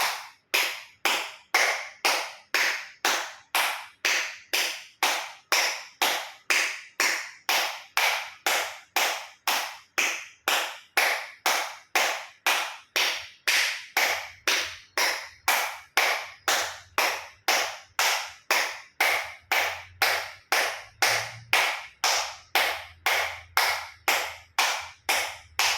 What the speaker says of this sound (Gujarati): એક્યુપ્રેશર તાળી પૂરેપૂરા પંચાંગળીઓ બધું ટચ થાય એ રીતે 50 વખત જોર જોરથી તાળી